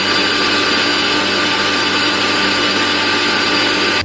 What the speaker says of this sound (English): Now we have to grind our this onion.